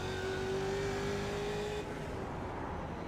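A race car in a racing video game drones past with a steady, loud engine note that drops away midway, leaving a rougher, lower rumble of other engine noise, with no talking.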